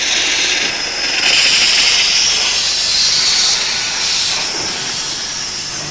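An old steam engine, around 120 years old, lets off a loud, steady, broad hiss of steam that swells slightly and then continues without a break.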